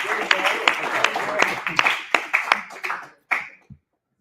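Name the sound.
applause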